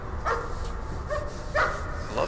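A dog in the horror game Layers of Fear barks and yips in several short bursts spaced across a couple of seconds, with a low murmuring game ambience and a voice talking underneath.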